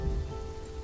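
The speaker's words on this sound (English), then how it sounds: "a farm caught on fire in the middle of a thunderstorm with lots of rain." Heavy rain from a thunderstorm in Kingdoms and Castles patters loudly and evenly, a dense hiss of drops layered over a faint steady tone for a brief moment.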